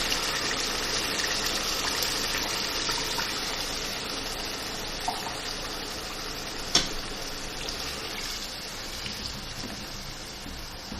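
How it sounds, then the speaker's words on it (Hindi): Water poured steadily into a pot of mutton and potato curry, a continuous close gushing splash with a couple of small clinks partway through. "अब मैं इसमें आलू गलने के लिए पानी डालूँगी"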